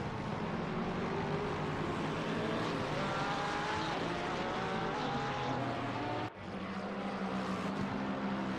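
A Ferrari and a Lexus race car circle a track in a 24-hour charity event, a dense, loud wall of engine noise with shifting pitch that dips briefly near the end before resuming.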